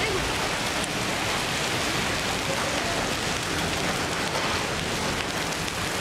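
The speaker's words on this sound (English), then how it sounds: "Half-inch hail." Half-inch hail pelts down in a dense, steady hiss-like roar of countless tiny impacts, loud and continuous with no break in intensity.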